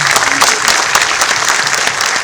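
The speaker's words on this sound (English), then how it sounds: "Please give them a round of applause once again." Dense audience applause fills a film trailer launch event in Delhi, steady and loud from start to finish.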